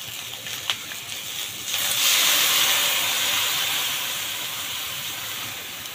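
Water poured into a pan of stir-fried meat with chilies sets off a loud burst of steamy sizzling that swells after a couple of seconds, then slowly eases into a steady hiss.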